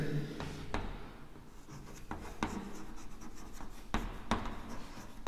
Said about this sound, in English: I am applying force on a chalk, I am writing on a board.